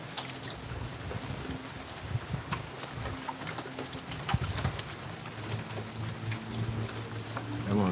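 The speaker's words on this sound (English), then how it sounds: "This is Kingston, Jamaica, raining." Rain falls in Kingston, Jamaica, giving a steady patter of drops with scattered sharp taps and a low background hum, with no talking.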